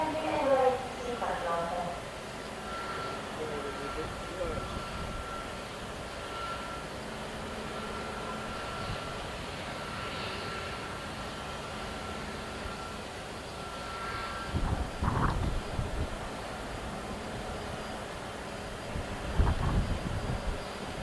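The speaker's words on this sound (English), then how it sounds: "They're just waiting for this small jet to be given the all clear for takeoff" A small jet idles at Luton Airport awaiting takeoff clearance, a steady distant engine whine and rumble beneath wind noise, with a voice talking over it and a few louder gusts or bumps.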